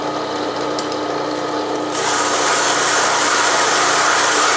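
Drill press running at slow speed over scrap wood, a steady mechanical whir with a constant low hum that grows louder and brighter partway through, close by with no voices.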